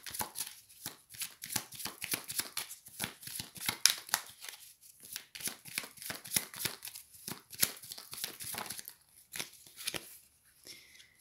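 A tarot deck being shuffled by hand: rapid, close clicking and flicking of cards in quick irregular bursts, repeated again and again and fading toward the end.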